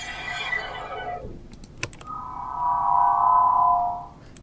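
A time-stretched, granular-processed sound effect: a smeared, noisy sweep that fades out, a few brief clicks, then a sustained warbling midrange tone that swells and dies away.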